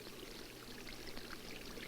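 Water runs down a small model stream canyon feeding a reservoir in a 1964 laboratory demonstration, a faint, steady trickling rush with no voices over it.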